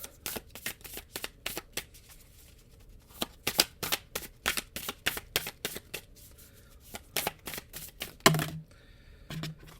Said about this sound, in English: So we'll go deeper into this message by pulling an elder animal card.